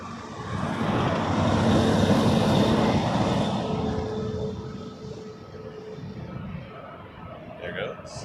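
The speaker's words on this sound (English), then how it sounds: "Jazz lining up next, Embraer 175 after this." A Jazz Embraer 175 regional jet takes off at Toronto Pearson. Its broad engine roar swells over the first couple of seconds, peaks, then slowly fades into the distance.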